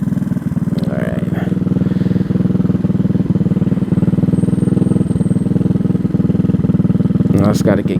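A Venom X18 motorcycle drones steadily while riding, a loud, close, low engine hum with a constant pulsing rhythm. Brief clattering bursts come near the start and end.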